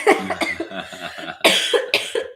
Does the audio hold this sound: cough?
yes